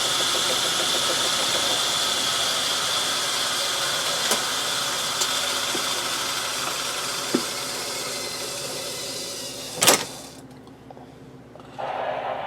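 A Logan metal lathe with a repaired collet closer runs at a steady, even mechanical whir, broken by a few faint ticks and one louder knock. The drone cuts out near the end.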